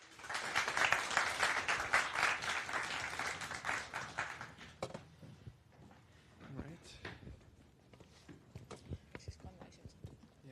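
An audience at a tech demo event claps in a dense round of applause lasting several seconds, which fades out as a presenter begins speaking.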